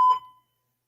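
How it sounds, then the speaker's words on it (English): A single short electronic beep from a fire alarm, sharp and fairly loud, cutting off quickly into silence. "So this is probably a few minutes of a fire alarm."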